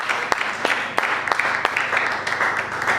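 A church congregation applauds during a worship service: steady, dense clapping with sharper individual claps standing out, sustained throughout, with a voice faintly present underneath.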